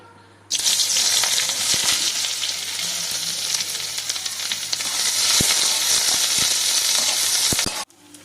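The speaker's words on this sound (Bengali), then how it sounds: "এবার পেঁয়াজটা ভেজে নেব, তার জন্য অল্প কিছুটা তেল দিয়েছি।" Onions fry in a little oil, a loud, dense sizzle that starts abruptly, holds steady with a few spatula clicks, then cuts off near the end.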